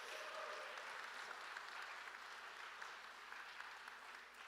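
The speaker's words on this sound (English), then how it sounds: "let's give him an extra round of applause" Audience applause at the UpSCaLE session of the SCaLE 22x tech conference, steady clapping that is quiet and fairly distant, slowly thinning toward the end with no voices over it.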